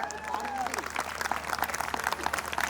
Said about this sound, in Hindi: मैं चाहूंगी सर के लिए एक बार जोरदार तालियां हो जाए।